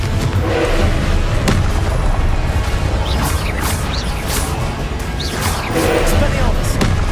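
A Confringo fire spell exploding in the Hogwarts Legacy video game, heavy booming blasts with crashing debris over a steady loud rumble, with a voice heard amid the action.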